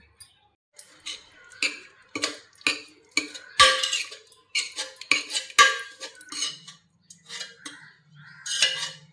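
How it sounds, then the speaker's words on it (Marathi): A ladle stirring cooked dal with tomato and spinach in a pot, giving a close, irregular run of metallic clinks and scrapes separated by brief pauses. "आता ह्याला चांगलं पळीने हटवून घेऊया"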